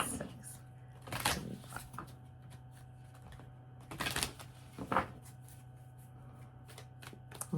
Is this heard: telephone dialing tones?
no